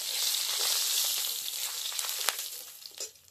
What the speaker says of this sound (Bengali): মাছ ভাজা হয়ে গেছে, মাছ ভাজাগুলো সব তুলে নিচ্ছি